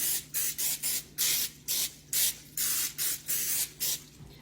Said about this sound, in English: and you got to spray it